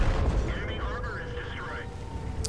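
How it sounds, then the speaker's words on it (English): A tank cannon in World of Tanks fires at a Tier 8 German medium tank, a deep boom at the start and low rumble after it, under a commentator's continuous talk. "continues to put shells into the Tier 8 German medium tank"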